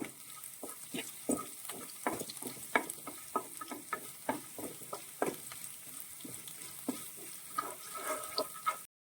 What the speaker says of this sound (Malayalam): ഇഞ്ചി എല്ലാം ഒരു ഗോൾഡൻ ബ്രൗൺ ആവുന്നത് വരെ നമ്മൾ നന്നായിട്ട് ഇതിനെ വഴറ്റണം